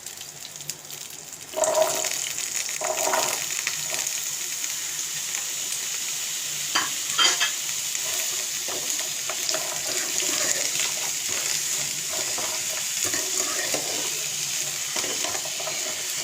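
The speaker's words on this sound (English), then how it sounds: "And we give it a light stir so that the tempering ingredients will be imparting their flavor in the pumpkin as well." Small yellow pumpkin pieces stirred through sizzling tempering in a hot pan, a steady loud frying hiss with repeated scraping spoon strokes throughout, no talking.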